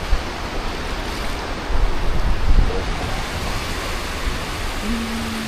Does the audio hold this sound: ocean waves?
yes